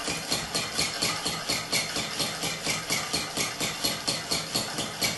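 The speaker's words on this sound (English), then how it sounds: "the whole business is going to be pumped up and down by this little motor here, driven by a battery" Small battery-driven motor pumping paper flapping wings up and down, giving a fast, steady mechanical whir with a regular rhythmic flap-and-rattle beat, close and even throughout, no voices.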